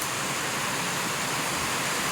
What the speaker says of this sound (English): the creek is all the way up through there, and it's still pouring down the rain